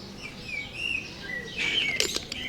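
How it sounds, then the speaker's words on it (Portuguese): Several birds chirp and tweet in a park near a lake in quick, high, bright calls. They are moderately close and grow busier toward the end, with no talking. "Mas tem muito pássaro."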